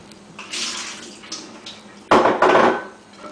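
Soaked almonds being drained, with water splashing and pouring in a kitchen, a first softer trickle followed by a louder, close rush of running water near the end.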